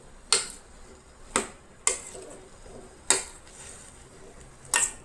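A utensil knocks against a pot as jackfruit pieces are stirred for Goan nirponos bhaji: five sharp, separate clinks at uneven intervals, fairly quiet, over a soft room background.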